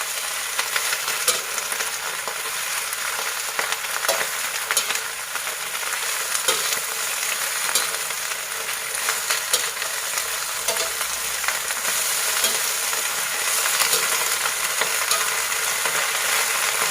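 Cabbage frying in hot oil, a dense and continuous crackling sizzle with fine popping spatters, loud and close, holding steady throughout with no voices.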